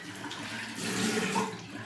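Running tap water rinses out a shaving resting cup, a continuous close, splashy hiss with slight surges as the stream hits the cup.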